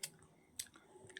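An apple being chewed, with two crisp crunchy bites and softer wet chewing in between, close and fairly quiet with no talking.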